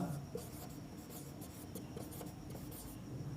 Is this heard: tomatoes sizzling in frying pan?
no